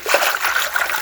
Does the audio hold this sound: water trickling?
yes